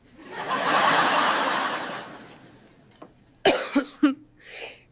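A rush of breathy noise fades, then a few sharp, close coughs break out in quick succession, followed by a softer final one.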